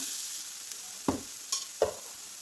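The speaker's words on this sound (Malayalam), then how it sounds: "ഉള്ളി ഇവിടെ സോട്ടായി വന്നിട്ടുണ്ട്" Onions sauté in a pan with a soft, steady background sizzle, broken by three quick scraping stirs of a spoon against the pan.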